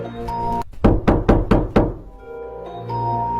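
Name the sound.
knocking on a door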